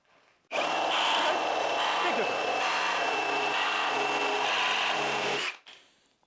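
A Ryobi One+ cordless reciprocating saw on a fresh 6 amp battery starts abruptly and runs loud and continuous for about five seconds, cutting with a harsh rasping buzz before cutting off sharply.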